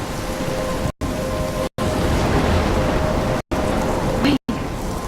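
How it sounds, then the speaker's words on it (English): Heavy rain pours in a storm in the video game Life Is Strange, a dense, loud roar of falling water broken by several brief silent cuts, with a faint rumble of thunder beneath. "I'm trapped in a storm?"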